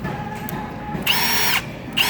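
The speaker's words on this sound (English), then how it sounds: "It's quieter on hammer mode than this is." A Milwaukee M18 Fuel Gen 3 cordless hammer drill whirs steadily nearby in hammer mode, with its pitch rising in two louder surges as it runs.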